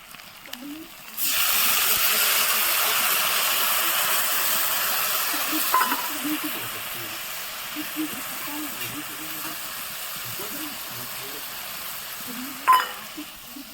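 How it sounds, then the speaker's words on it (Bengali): Masala paste with chili and turmeric powder mixed in water sizzles steadily as it is sautéed in a pan, with spoon stirring and scraping over the hiss, and a voice speaks quietly now and then. "দেখতেই পাচ্ছ মশলাটা কষানো চলছে"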